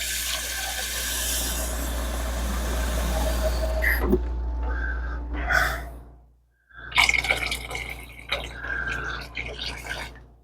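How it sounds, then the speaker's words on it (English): Water gushes steadily from a kitchen tap running hot water for several seconds, then cuts off; after a brief silence come clinks and small knocks nearby. "I'm trying to turn on the hot water."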